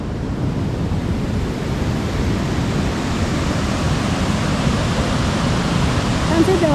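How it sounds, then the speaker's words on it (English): An overflowing village stream pours at a bathing spot, making a continuous close roar of rushing water, dense and even from start to finish. "Can see the overflowing water?"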